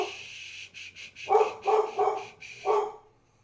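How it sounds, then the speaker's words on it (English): Dogs bark in a quick run of four or five clipped yaps, moderately loud, against a faint steady hum with no talking. "You hear dogs barking off in the distance"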